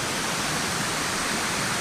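Waterfall among the hills near Maihar, a steady, loud broadband rush of falling water with no break or voices over it.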